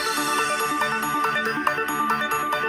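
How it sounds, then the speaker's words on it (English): A GarageBand remake of the Sonic Mania intro theme plays with every instrument at once, a dense, steady electronic arrangement with a regular rhythmic pulse and no talking. "then the intro segment will sound like this."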